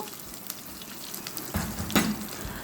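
Chopped ginger frying in hot oil during tempering for a water spinach dish, a continuous crackling sizzle that grows louder midway with a brief sharp clatter of stirring.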